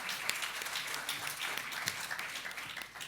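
An audience at a round-table colloquium applauds steadily for a few seconds, a dense, even patter of many clapping hands heard faint and from a distance.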